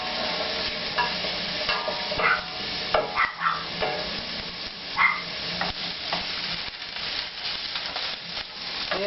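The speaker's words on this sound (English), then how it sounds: "let's throw some garlic in there" Garlic sizzles and fries in a pan while being stirred, a steady crackling hiss broken by scraping spoon strokes, close and clear with no talking.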